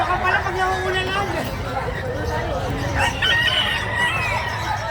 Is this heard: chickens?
yes